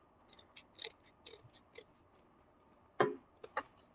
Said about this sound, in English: And go ahead and cut it on an angle.